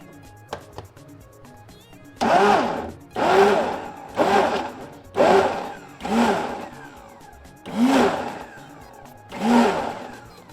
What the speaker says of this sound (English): I'm actually pulsing because I do not want it to blend completely smooth